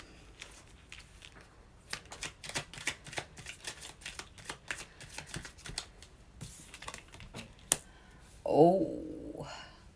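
Tarot cards being shuffled by hand, a string of crisp, rapid riffling clicks and soft slaps at close range, followed by a short burst of a voice at the end.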